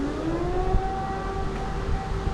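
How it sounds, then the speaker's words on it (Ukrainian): A wailing air raid siren warning of incoming missiles holds a steady rising tone, sounding distant and continuous over low background rumble. "Чуєте сирену?"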